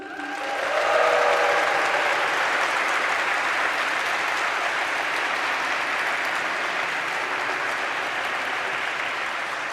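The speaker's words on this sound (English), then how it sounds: "can we give a big round of applause for our Madrid team?" Large audience of new students at a welcome event in Madrid giving a big round of applause, swelling within the first second into sustained, even clapping that carries on for several seconds with no talk.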